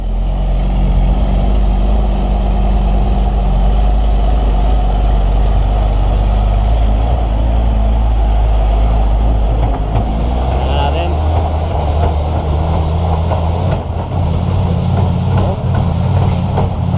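A dump truck's diesel engine labours and revs on a slippery, deeply muddy road, a loud continuous low rumble that shifts in pitch midway, with people talking over it.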